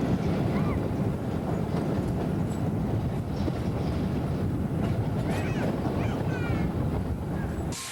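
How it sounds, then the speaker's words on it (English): Diesel switcher locomotive number 701 assembling a charter train consist on a Central American railway, a steady loud rumble and clatter of rolling stock with faint squeals, continuous throughout with wind buffeting the microphone. "diesel switcher number 701 assembles the charter train consist in preparation for the trip to"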